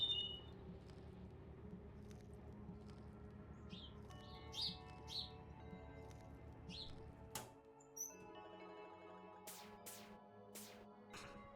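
Chirps and tweets from small birds in a Darkside Detective game scene, scattered calls over a quiet hum that drops away partway through, followed by sharp high clicks.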